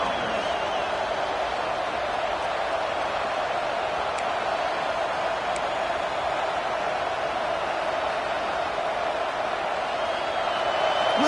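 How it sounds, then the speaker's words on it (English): A football stadium crowd roars in a steady, dense wash of cheering and noise, unbroken for the whole stretch and heard from a distance with no single voice standing out. "Listen to the crowd energy here in the early going."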